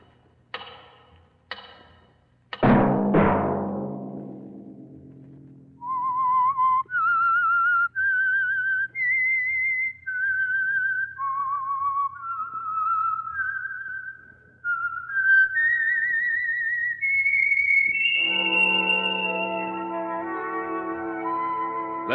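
A clear, melodic whistled tune of sustained notes rising and falling, the theme of the radio drama The Whistler, preceded by a few sharp chime-like strikes, with no talking.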